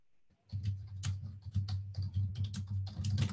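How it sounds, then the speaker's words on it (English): Quick, steady typing on a computer keyboard while entering a Google search for a San Francisco plumber; close, crisp keystrokes run continuously over a low, constant hum. "So I'm just going to go and type in"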